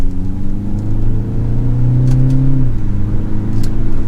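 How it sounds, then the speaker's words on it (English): A BMW 228i Gran Coupe with a 2-liter engine pulls hard in third gear, its loud, steady engine note rising in pitch before easing off near the end, with faint whirring and road rumble underneath. "We'll get it up and go just a little bit, feel out the power."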